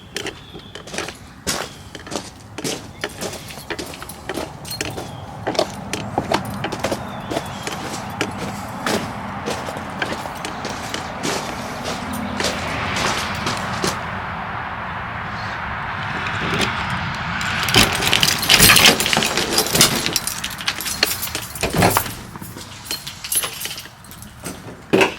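Someone gets into a GMC dually truck and drives off: keys jangle, the door clunks, and sharp knocks and rattles come over a low engine rumble that builds toward the end, with no talk.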